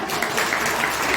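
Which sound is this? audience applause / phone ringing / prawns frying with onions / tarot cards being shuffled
audience applause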